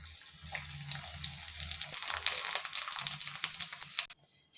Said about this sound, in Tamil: இப்போ வடகத்தை போட்டு பொரித்து எடுத்துக்கலாம்.